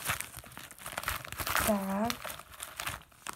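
Plastic packaging crinkles and rustles in bursts while a parcel is opened, close and fairly loud, with a person speaking briefly in the middle.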